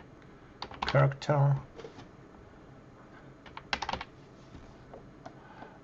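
Rapid bursts of computer keyboard typing, clicking keys in short clusters, with a voice speaking briefly in between.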